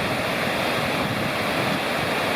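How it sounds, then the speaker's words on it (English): Falls of Flat Laurel Creek on the Blue Ridge Parkway pour into a pool below, producing a steady broadband roar of rushing water, constant and unbroken with no voices. "Just an incredible waterfall."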